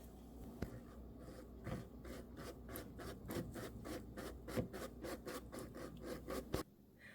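Dry baking ingredients, flour, salt and baking soda, are whisked together in a bowl, making a quiet, regular scratching swish repeated about twice per second for several seconds.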